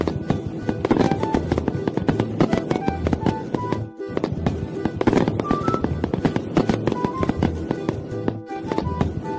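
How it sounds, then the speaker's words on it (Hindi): Firecrackers burst for Diwali in a dense, continuous barrage of loud, close cracks and pops, with a brief pause near the middle before the rapid bursts resume. "दीपावली कल है तो तुम कल ही पटाखे फोड़ना।"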